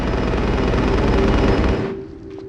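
Machine-gun fire in the City of the Dead level of Tomb Raider: The Last Revelation: a dense, continuous loud burst that runs for about two seconds, then cuts off to quiet background.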